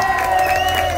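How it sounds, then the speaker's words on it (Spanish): A crowd applauds and cheers for a birthday guest at a lively show, steady dense clapping for a short burst with a sustained musical tone running underneath. "¡Fuerte el aplauso para Norma!"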